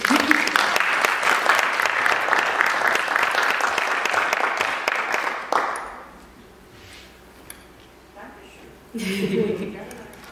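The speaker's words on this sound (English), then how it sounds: "please give her a big round of applause" Audience applause at the Key Colour award ceremony, a loud, dense burst of clapping lasting about five seconds before fading into quieter room sound, with a shorter swell of clapping and talk returning near the end.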